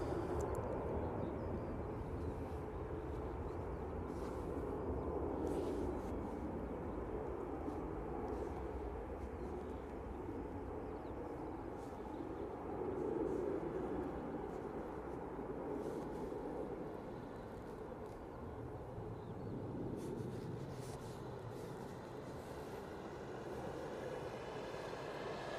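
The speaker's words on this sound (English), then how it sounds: "Right, I can hear another plane. That's an EasyJet, and we are go." An EasyJet plane at Manchester Airport gives off a long, steady, broad roar that swells and eases slightly across the stretch, heard from a distance with no talk.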